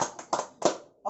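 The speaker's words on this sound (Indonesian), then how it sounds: "Dan Beri tepuk tangan untuk Michael" A few scattered, separate hand claps from a small audience applauding a guest named Michael, sparse and fairly quiet with gaps between them.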